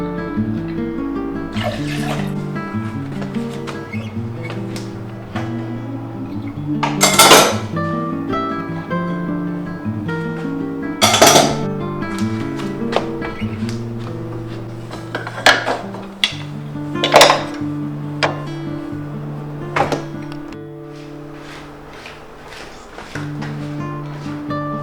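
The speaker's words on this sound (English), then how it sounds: "I got a few smaller things done, like putting away the dishes that had been washed the night before" Washed dishes are put away in a home kitchen, with scattered clinks of plates, cups and cutlery set down at irregular intervals against a steady background hum.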